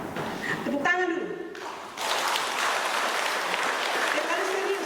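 At a regional women's forum assembly in Boven Digoel, a short pause gives way to a crowd's broad, steady applause that fills the rest of the moment, with a voice heard before it.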